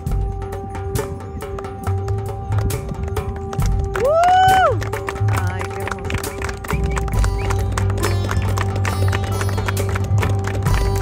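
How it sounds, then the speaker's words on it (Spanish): Horses march in formation behind a flag at a Bedouin gathering in Saudi Arabia, their hooves clip-clopping in a steady, rapid patter over a constant droning tone. A brief rising whistle cuts in, and voices murmur faintly. "los caballos van a ir marchando así, siempre siguiendo la bandera"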